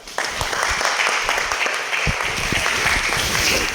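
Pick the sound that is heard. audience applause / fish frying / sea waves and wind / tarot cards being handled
audience applause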